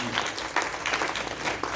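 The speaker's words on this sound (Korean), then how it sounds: "우리 박수 쳐주면 또 좋아요" Steady applause from a church congregation, dense and even throughout, with no voices over it.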